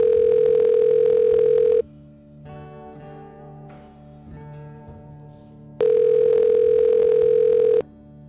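Telephone ringback tone on an outgoing call, two long loud steady rings separated by a quieter gap with faint background sound.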